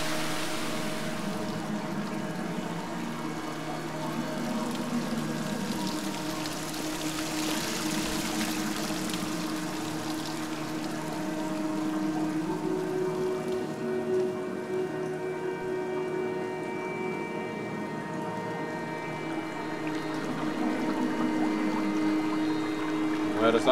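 Flowing water and steady rain in the video game Dear Esther, a continuous soft wash of falling drops and running water at moderate volume throughout, layered with a faint sustained musical drone.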